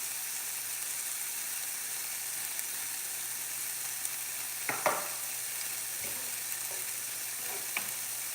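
Broccoli sizzling faintly in a pan, a quiet constant fry with a few brief scrapes and clinks of stirring near the middle.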